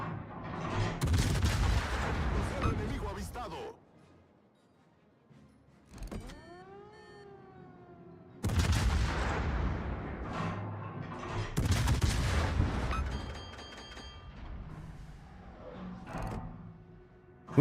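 Warship naval gunfire in the World of Warships video game: heavy booming salvos in loud bursts separated by quieter gaps, with whistling shell sounds and rumbling explosions.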